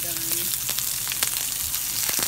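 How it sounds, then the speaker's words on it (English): Coral mushrooms (Ramaria) fry in a pan on a simmer, giving a steady, close sizzle throughout with faint stirring. "We are on simmer, so it's cooking quite fast."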